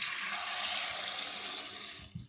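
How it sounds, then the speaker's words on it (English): Water pours steadily into a cooking pot for steaming barnacles and cockles, a continuous close splashing rush of about two seconds that cuts off abruptly, with a faint clunk at the end. "I'm just going to put a bit of water in,"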